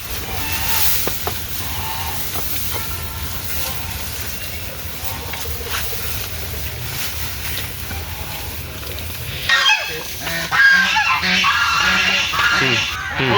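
Ducks on a village farm call out at feeding time in the late afternoon. A steady outdoor murmur gives way to a cluster of loud, nasal honking quacks near the end.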